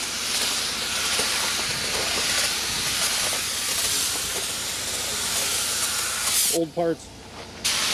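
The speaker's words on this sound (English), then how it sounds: "Trying to keep the overspray off the brand new fuel cell." Spray gun steadily hissing paint onto an IMCA hobby stock car body near a brand new fuel cell, a loud continuous close spray that cuts out near the end while someone speaks briefly.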